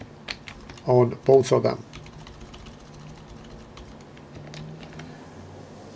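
Quick bursts of typing on a computer keyboard, a short run of close clicks near the start, then faint scattered key taps under someone talking.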